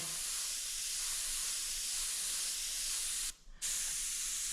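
Steady hiss of spray paint being sprayed over vinyl masking, continuous and close, with one brief pause before spraying resumes.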